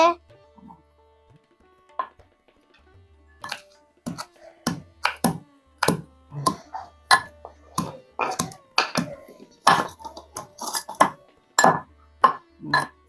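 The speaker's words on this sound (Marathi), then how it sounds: "तोपर्यंत मी लसूण ठेचून घेते" Garlic being crushed for palak gargati bhaji, a Maharashtrian spinach dish: a run of sharp, close pounding thuds in an irregular rhythm, starting sparse and growing steady, in a quiet home kitchen with no talk.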